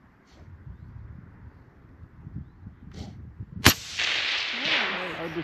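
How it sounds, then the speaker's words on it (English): One sharp, loud precision rifle shot cracks at a target on an outdoor range, followed by a long rolling echo, with quiet voices and background noise before it. "I'm gonna go for the top one where Molly shot."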